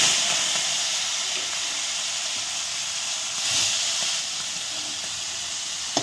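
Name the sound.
prawns frying in hot oil in a kadai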